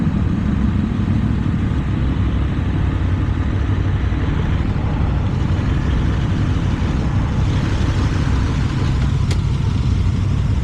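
A 2026 Aprilia Tuono Factory V4 1100 naked motorcycle is ridden at speed, giving a loud, constant engine roar mixed with wind rush throughout, with no break in the sound.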